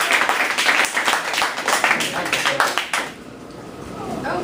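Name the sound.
audience round of applause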